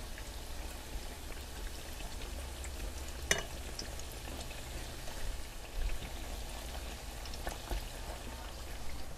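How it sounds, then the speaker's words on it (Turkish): Steady crackling and popping of karakuş dessert dough deep frying in hot oil, a dense bubbling hiss with a few sharper pops, continuous and fairly close. "Nar gibi kızarana kadar pişiriyoruz."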